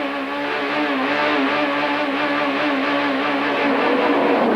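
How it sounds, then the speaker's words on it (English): Steve Soper's BMW touring car engine revs hard on a damp, slippery track at the start of a 1992 British Touring Car Championship race, a loud, sustained roar with no talk over it. "The track is damp and slippery as Steve Soper guns his BMW motor for action."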